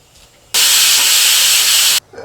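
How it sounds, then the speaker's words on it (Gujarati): A pressure cooker whistle blasts a loud, steady hiss of escaping steam for about a second and a half, starting and stopping abruptly against a quiet kitchen background. "એક તરફ કુકરની સીટી વાગી રહી છે"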